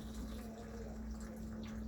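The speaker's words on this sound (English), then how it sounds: "very carefully we will fill the teapot" Water at 175 degrees trickles into a teapot for green oolong tea, a faint, steady pour under a low hum.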